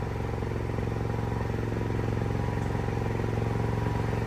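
A portable generator's engine running steadily after starting, a near, even mechanical chugging with a constant rhythmic clatter and no voices.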